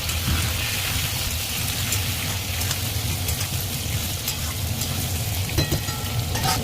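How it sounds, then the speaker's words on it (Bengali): Eggplant, pumpkin and potato frying in a pan after a spice tempering, a dense continuous sizzle close by with occasional faint clicks of stirring. "একবার ফোড়ন দিয়ে আমি সবজিগুলো ভেজে নিচ্ছি।"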